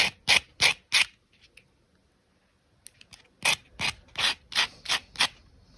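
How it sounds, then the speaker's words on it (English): A nail buffer smooths fingernail edges at close range in quick rhythmic strokes: three rubs, a pause with faint rustling, then a faster run of six or seven strokes. "use my buffer just to smooth out the edges"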